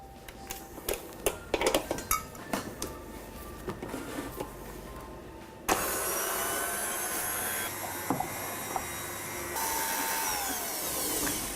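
Bowl and utensils clatter in irregular knocks, then an electric mixer starts and whirs steadily and loudly, beating the dry ingredients for a vegan chocolate cake, which include xanthan gum.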